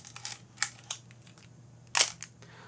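Several quiet, crisp clicks from the shutter release of a Miranda Sensorex film SLR camera, close by, with one sharper click standing out among softer mechanical ticks.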